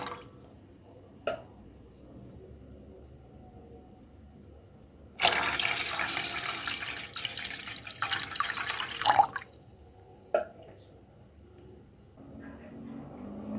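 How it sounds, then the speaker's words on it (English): Water from a kettle or jug pours into a teapot, a steady broadband splash lasting about four seconds, bracketed by brief clinks and faint handling noises in an otherwise quiet kitchen. "So I have my teapot here, and I'm just going to add 2 cups of water to it."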